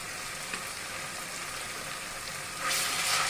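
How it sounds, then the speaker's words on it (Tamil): Ginger garlic paste sautéing with onions and green chilies in a pan, a soft continuous sizzle that swells louder near the end, with no voices. "இதே இஞ்சி பூண்டு பேஸ்ட் போட்டு வதக்கிக்கலாம்."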